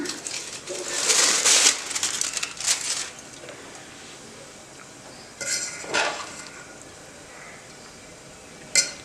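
Lid lifted and a spoon stirring through paneer dum biryani in a metal pot, with bright clattering scrapes in the first few seconds, a pause, then another burst of metallic scraping.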